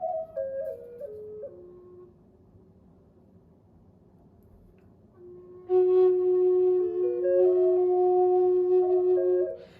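A sustained electronic reference tone at the note F sharp 4, used to check the pitch of a 3D-printed native flute, starts midway and holds steady and fairly loud for several seconds after a quieter, shifting tonal passage.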